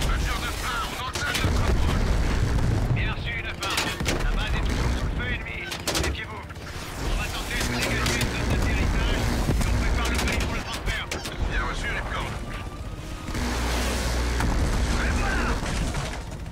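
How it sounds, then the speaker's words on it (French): Rapid gunfire and booming explosions in Call of Duty: Black Ops Cold War campaign burst repeatedly, loud and chaotic, with a voice talking over parts of the action. "mais regardez moi ça, ces explosions"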